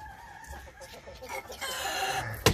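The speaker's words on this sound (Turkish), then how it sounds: "Bakın ispenç horozumuza kadar bütün horozlar burada." Several roosters, an Ispenç rooster among them, crow in a shared coop, their calls overlapping and layered at moderate distance with steady clucking throughout and a brief sharp knock near the end.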